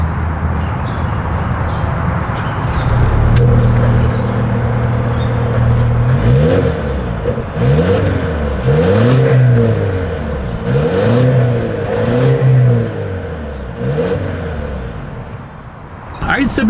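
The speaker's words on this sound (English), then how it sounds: "As always, here is that exhaust clip." A 2026 Volvo XC40 subcompact luxury SUV idles, then its exhaust is revved in several repeated bursts, each rising and falling in pitch, loud and close with a steady idle hum between.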